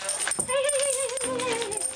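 A distressed Shar-Pei dog in a kennel whimpering, a close, high wavering whine that rises and falls continuously for about two seconds.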